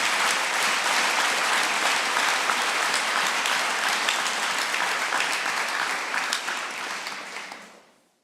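A church congregation bursts into loud, sustained applause that fills the room evenly, then fades out quickly near the end.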